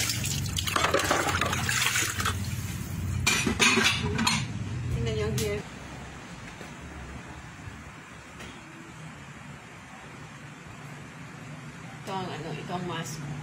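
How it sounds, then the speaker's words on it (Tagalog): Dishes are washed under running water in a home kitchen: plates and cutlery clink and clatter over a steady stream for the first few seconds, then the sound settles into quieter, softer handling and trickling. "naghugas ng pinggan"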